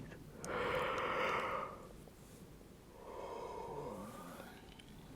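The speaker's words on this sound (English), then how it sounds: "You've already got me yawning" Two slow, breathy yawns, close and soft, come during a whispered guided meditation: a long drawn inhale-exhale first, then a second quieter, wavering yawn trailing off.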